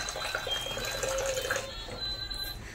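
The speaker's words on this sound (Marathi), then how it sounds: "आपण पाणी ऍड करूया याच्यात" Water is poured into a pressure cooker while making a vegetable soup for a baby, a steady running splash with trickling tones that carries on unbroken for a few seconds, close and moderately loud.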